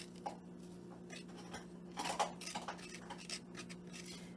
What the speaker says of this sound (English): You'll have to excuse the crunching sound in the background. That's my dog having his Bone.